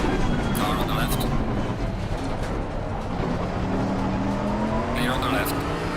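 In a GT3 league race at Suzuka in Assetto Corsa Competizione, a rival race car passes close on the left, engine roar swelling over the constant hum of the player's car, with brief tire squeal and voices alongside.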